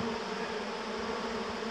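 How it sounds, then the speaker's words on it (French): Dense, steady buzzing of a large honey bee swarm being moved from a board into a hive, with bees swirling everywhere close around, a loud continuous drone with no voices. "J'ai du mal à marcher même si tellement qu'il y a d'abeilles partout."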